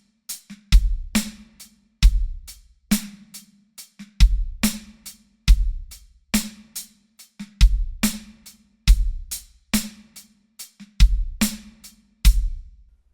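Slow breakbeat drum groove on a kit, with punchy kick and snare backbeats on two and four, a soft ghost note, and steady hi-hat, repeating evenly and up close with no talking.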